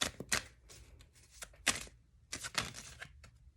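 Tarot cards shuffled by hand, a run of crisp papery riffles and flicks in irregular bursts, close and fairly quiet with no talking.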